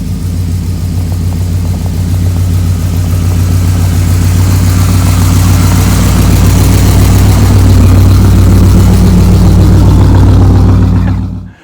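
A GMC Jimmy K5 square-body truck engine drones steadily and loudly while driving, a constant low rumble with road noise that holds for the whole stretch before cutting off abruptly at the end.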